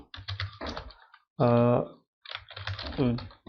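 Computer keyboard being typed on while building an HTML nested list, a quick run of close clicking keystrokes in bursts, with someone talking between and over them.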